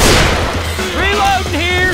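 Gunfire from a Left 4 Dead 2 versus match in the Swamp Fever campaign: loud, dense shots and booms pile up at the start, then give way to a busy mix with voices calling out over the action.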